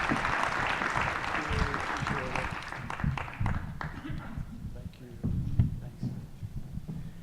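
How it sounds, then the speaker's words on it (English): A room of attendees at a river forum kickoff gives applause for the mayors, fading after a few seconds into scattered claps as voices and chatter take over. "let's give them one more round of applause,"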